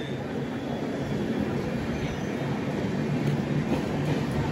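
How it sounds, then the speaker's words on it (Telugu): A passenger train bound from Thiruvananthapuram North to Mysore passes nearby, a continuous loud rumble of wheels and carriages with steady rolling noise throughout. "అటు ఒక ట్రైన్ వస్తుంది, త్రివేంద్రం నార్త్ నుంచి మైసూర్ వెళ్ళే ట్రైన్."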